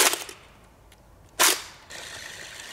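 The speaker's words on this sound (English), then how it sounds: "So I've got the full auto AK-47, and I think it's only fair that I get to use the drum mag today." A full-auto AK-47 fed from a 75-round drum fires 7.62x39 full metal jacket rounds outdoors, sharp loud reports with a single prominent blast and shorter cracks around it.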